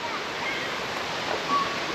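River flowing near a waterfall, a dense, steady rushing wash of water that is loud and unbroken throughout, heard alone.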